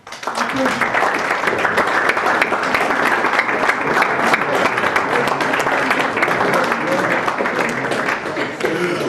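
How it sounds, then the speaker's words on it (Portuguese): Audience at a school talk applauding, a sustained, loud, dense wash of clapping that holds for about nine seconds, with faint voices mixed in. "E eu acho que merecem uma salva de palmas"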